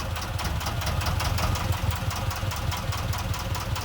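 An old sailboat's inboard engine runs steadily in gear, a continuous low knocking rumble with even vibration and no talk.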